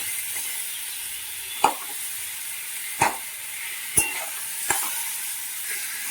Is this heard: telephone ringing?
no